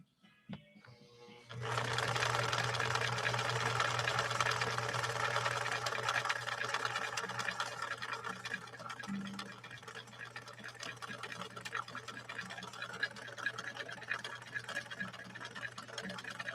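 A 1961 Viki sewing machine stitching with German-made Sulky 40 wt embroidery thread, its motor starting after a brief pause and then running in a steady, close, loud mechanical whir with fast needle clatter.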